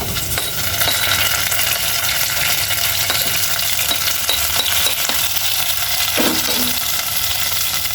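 Tomatoes are stirred into a pan of mussels, giving a steady close sizzle and frying hiss with occasional scraping and clinking of the utensil against the pan, and no talking.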